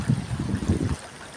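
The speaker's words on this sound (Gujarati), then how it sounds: "આજે નદી જોવા માટે આવ્યો ફૂલ પાણી જઈ રહ્યું છે" A river swollen by two days of rain rushes past, a close, low rumbling gush of water that churns for about a second before easing off, with no voices.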